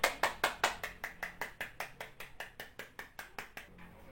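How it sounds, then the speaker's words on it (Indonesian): A small classroom group claps for a student group after a presentation: a run of sharp, evenly spaced claps, close and clear, fading out near the end with no talk. "Kita berikan apresiasi lagi dengan memberikan tepuk tangan yang meriah untuk kelompok 2."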